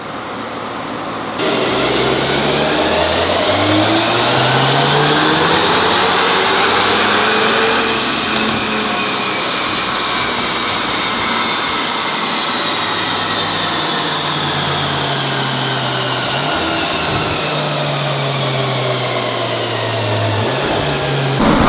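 A stock MK8 Volkswagen Golf R runs hard on a chassis dyno, its engine note climbing steadily through the revs with rising harmonics, loud and continuous for the whole pull with no talking.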